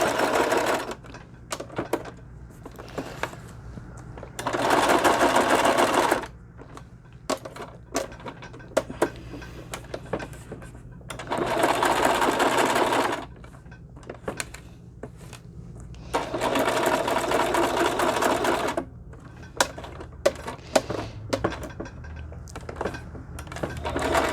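A sewing machine with black thread stitches stamp cards in several separate bursts of fast, loud mechanical rattling. Quieter pauses between the bursts hold scattered clicks and small handling noises.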